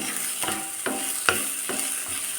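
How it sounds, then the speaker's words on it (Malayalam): A quarter teaspoon of cumin seeds sautés in a pan for a chana masala, a continuous close sizzle broken by a few scraping stirs and one sharp tap of the spoon. "ഇതിലേക്ക് കാൽ ടീസ്പൂൺ ജീരകം ചേർത്ത് കൊടുക്കാം ഇനി ഇത് നന്നായിട്ട് വഴക്കിയെടുക്കണം"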